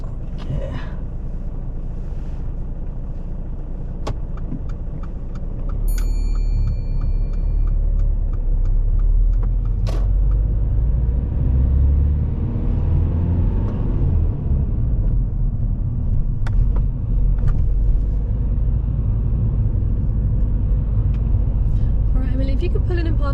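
A car engine rumbles as the vehicle pulls away and drives along a road, a steady low drone throughout with a few clicks and brief tones, while people talk at times inside the car.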